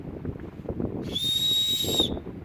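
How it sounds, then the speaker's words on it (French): A single short, shrill blast from a safety whistle fitted to a CamelBak trail running hydration pack, sounded close and loud for about a second over low background noise. "C'est un camelback, ils insèrent automatiquement, c'est automatique, c'est un sifflet."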